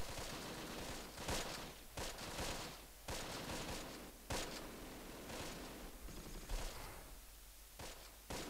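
Bursts of machine-gun fire and rifle shots crackle through a Close Combat: The Longest Day battle over a steady hissing background, with irregular volleys recurring for several seconds and no one speaking.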